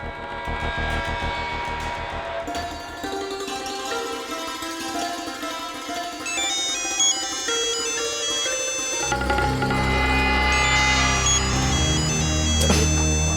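A mobile phone ringtone rings on and on as a repeating electronic melody with layered tones, steady and fairly loud, changing pattern partway through; no one speaks over it.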